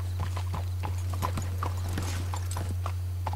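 Horse hooves clip-clop at a steady walking pace over a constant low hum, with occasional faint voices in the background, in the video game Red Dead Redemption 2.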